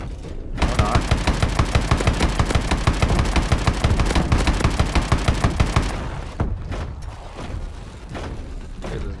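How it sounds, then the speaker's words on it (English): Rapid automatic gunfire in the video game Call of Duty: Advanced Warfare, a sustained rhythmic burst of close, loud shots for several seconds, then sporadic fainter shots and game noise. "this guy's shooting me in the back."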